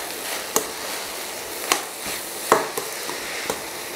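Vegetables sautéing with chilli powder, garam masala, coriander powder and pav bhaji masala for Indian-style masala noodles: a soft continuous sizzle under sharp, irregular scraping knocks of a spatula against the pan, about five strikes over a few seconds.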